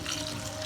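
A brief, steady rush of water poured into a simmering bottle gourd and dried fish curry, close and soft, with no voices.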